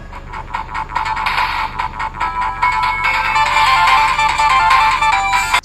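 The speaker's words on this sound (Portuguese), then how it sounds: "ele já tem uma musiquinha aqui na aba de seleção de jogos" Menu music from an R36S retro handheld console's game selection screen, a bright, beeping chiptune-style melody of quick repeated tones that gets louder and fuller partway through, playing alone with no voices.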